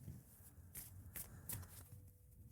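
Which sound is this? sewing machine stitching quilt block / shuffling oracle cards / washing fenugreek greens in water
shuffling oracle cards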